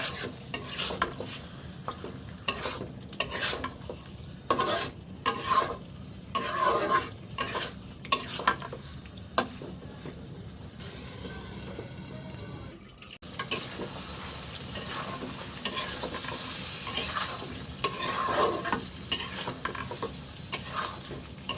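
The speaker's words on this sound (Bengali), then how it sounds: "ভালোভাবে নাড়াচাড়া করে এগুলোকে ভালো করে কষিয়ে নেব" Goat meat stirred and fried in a pan, repeated rhythmic scraping and clattering strokes of a spatula against the pot over a soft background sizzle, close and fairly loud, no voices.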